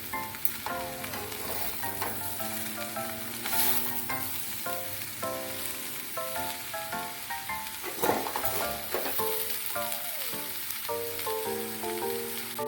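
Cabbage and vegetables stir-fry in a pan for chicken chow mein, a soft, continuous sizzle running beneath melodic background music throughout.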